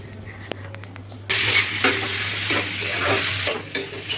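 Oil frying in a kadai, a loud close hissing sizzle that starts abruptly after a quiet hum and a few clicks, holding steady with crackling pops to the end.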